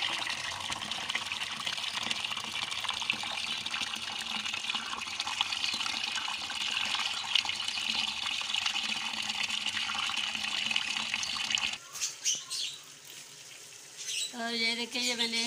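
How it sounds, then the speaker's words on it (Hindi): Rinsing water poured out of a vessel of grains makes a continuous splashing gush that runs steadily for about twelve seconds, then stops abruptly, followed by quieter handling sounds and a brief trickle. "ये पानी सारा नीचे चला गया"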